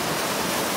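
A hand swirls through a small river stream, giving a brief burst of steady, close rushing water.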